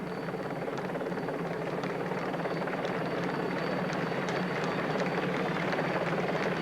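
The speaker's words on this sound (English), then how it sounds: "A helicopter picking up the shots for you" Helicopter hovering over the 1996 Tour de France final stage, a steady, dense rotor and engine drone holding at an even level throughout, with no voices.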